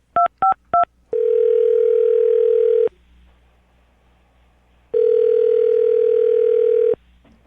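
Three short DTMF keypad beeps are dialed, then a loud steady telephone ringback tone sounds for about two seconds, pauses, and rings again, with no talking.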